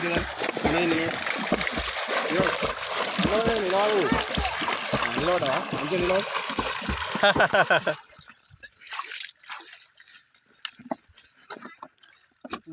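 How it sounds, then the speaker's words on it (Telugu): Someone swims in a village lake, with splashing and sloshing water under steady nearby talk for most of the time, then quieter intermittent splashes and ripples toward the end. "మా వాడు హ్యాపీగా ఈత కొడుతున్నాడు"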